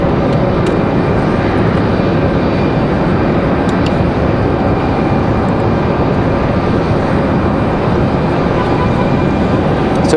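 A Jazz CRJ 900 regional jet departs Raleigh Durham International Airport for Toronto, a loud, sustained jet engine roar that holds steady throughout with no talk.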